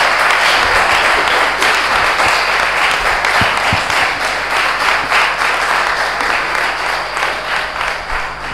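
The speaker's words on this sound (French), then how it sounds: "On applaudit encore plus fort." A church congregation applauding loudly and steadily during a novena for the Immaculate Conception, a dense sustained wash of many hands clapping near and full for the whole stretch.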